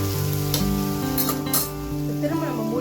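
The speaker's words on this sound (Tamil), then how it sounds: "நம்ம வந்து நடுவில் கொஞ்சம் பெரட்டி மட்டும் விட்டுடலாம்" Carrot fry is turned over midway through cooking in a pan, a close sizzle overlaid with a few quick scraping stirs, fairly loud and continuous over a few seconds.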